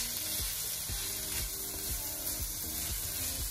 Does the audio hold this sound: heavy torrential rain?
no